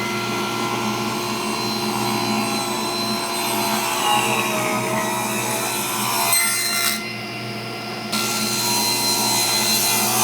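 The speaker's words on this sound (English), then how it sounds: "I'm going to cut a piece about 1 inch wide out of the bloodwood" Strips of bloodwood, maple and wenge being cut by a saw: a loud, steady, continuous cutting noise that runs throughout, with a brief dip about two-thirds of the way in before resuming.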